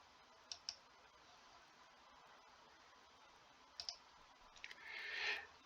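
Computer mouse clicks during a software demo: a few sharp, close clicks, a pair early and another cluster later, over a faint background hiss, followed by a short soft rustle at the end.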